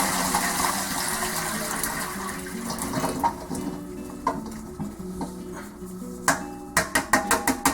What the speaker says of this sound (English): We have to strain our sliced pickles, strain all the water off.